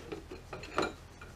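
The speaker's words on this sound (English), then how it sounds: "at this point we're going to install the inner" Inner gear of a Melling 10295 oil pump being installed on an LS engine: a few light metallic clinks and scrapes of gear against housing, quiet and close, no speech.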